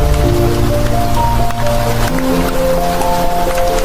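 Steady rain falls continuously, a dense hiss of drops striking a surface, with faint low tonal hum lines running beneath throughout.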